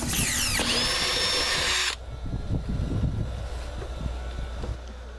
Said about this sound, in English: Drill a hole close to the side for this flapper valve unit.